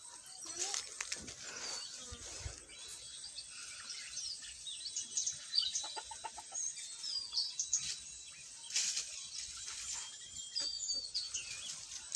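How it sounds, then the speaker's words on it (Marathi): Hens resting under small mango trees in an orchard, clucking and chirping softly on and off over an open outdoor background. "मस्तपैकी निवांत ह्या कोंबड्या किती सुंदर बसलेल्या आहेत पहा"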